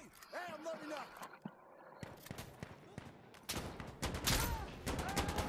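Gunfire from the video game Insurgency: Sandstorm, bursts of shots scattered through the clip and heavier toward the end, mixed with people talking over it.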